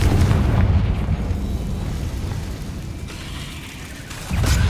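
A Confringo spell blast in Hogwarts Legacy on PS5 gives a deep, rumbling boom that swells at the start and slowly decays over several seconds, with a fresh thump at the end.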